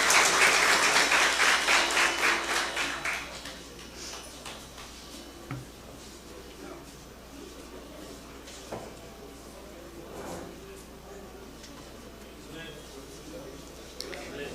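Guests at a homage ceremony in Goiana applaud as a local party president is called forward, a burst of clapping over the first few seconds that dies away into a quieter room with scattered knocks, ticks and faint voices.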